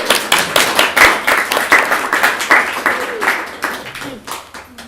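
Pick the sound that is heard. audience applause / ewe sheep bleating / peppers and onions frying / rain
audience applause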